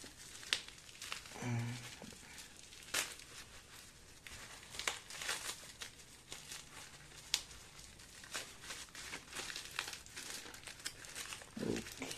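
Protective packaging insulation is unwrapped from the box of a Casio PRG-80T watch, giving faint, scattered crinkling and rustling close by with brief sharper crackles.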